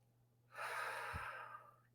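A single deep breath drawn in during a mindful pause, a close, steady inhale rising quickly and held for about a second before fading.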